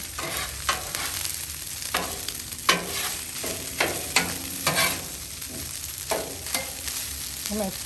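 Fried rice sizzles on a hot Blackstone griddle while a metal spatula scrapes and tosses it in repeated sharp strokes, close and steady with no talking.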